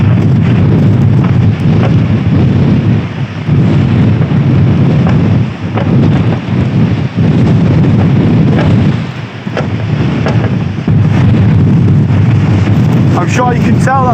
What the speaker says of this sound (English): I'm sure you can tell that the wind is well stronger at this side.